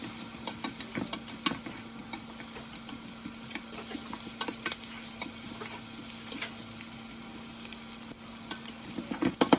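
Chopped garlic and diced onion sizzle in hot oil in a pan for a pork kaldereta, a steady soft frying hiss broken by occasional stirring clicks and scrapes.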